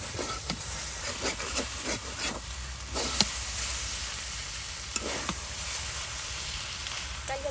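Potatoes sizzle and fry in a pan with a steady hiss, broken by repeated scraping clicks of stirring, close and moderately quiet.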